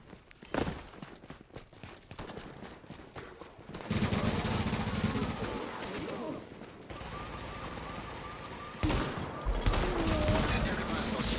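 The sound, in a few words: turret gunfire in video game Tom Clancy's The Division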